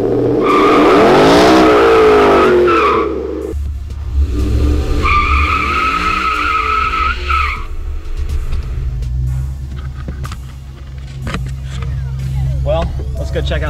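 Supercharged Ford F-150 pickup with traction control off, roaring and squealing its tires in a parking lot; loud, close bursts of tire screech over heavy engine rumble, repeated several times.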